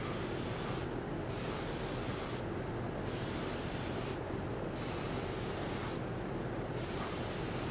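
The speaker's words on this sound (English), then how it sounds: "Then we spray." Cerakote Glacier Series coating sprayed from a spray gun onto a textured surface, a continuous loud hiss broken by four brief pauses at a steady rhythm, close by with no voices.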